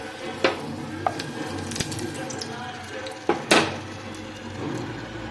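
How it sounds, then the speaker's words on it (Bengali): Dried red chillies dropped into hot oil to temper a chutney give a short sizzle with a few sharp crackles and clinks of utensils, close by, while a voice talks over it. "তেল গরম হয়ে গেছে, 2 শুকনো লঙ্কা দিয়ে দিচ্ছি।"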